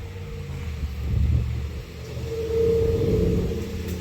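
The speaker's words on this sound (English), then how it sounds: "just guy driving by with a truck." A truck drives past outdoors, a low engine rumble that swells, eases, then swells again over about four seconds, moderately loud and fairly near, with no talk.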